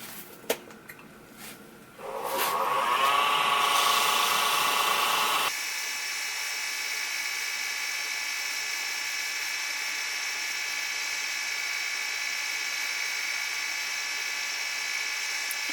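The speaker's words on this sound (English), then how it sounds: "I'm going to wind this up to about 1500 RPM and wet sand it." Wood lathe spinning at about 1500 RPM while a pen blank is wet sanded, with a motor whine rising as it spins up, followed by a steady high-pitched hum, continuous and without talk.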